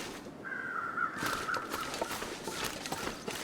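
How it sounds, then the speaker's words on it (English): Crows caw in a snowy survival game setting near a church, a drawn-out call followed by scattered harsher caws over soft ambient wind and crunching steps. "what the crows are doing?"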